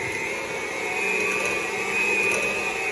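A kitchen blender whirs steadily while mixing butter and sugar for chewy sugar cookies, a continuous close motor drone with no talk over it.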